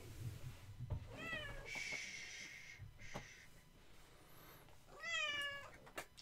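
A pet cat meows close by, several rising, whiny calls and a long cry spread across the moment, mixed with soft wheezy breaths and thumps in a quiet room.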